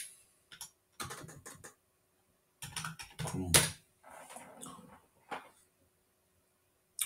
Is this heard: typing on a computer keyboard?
yes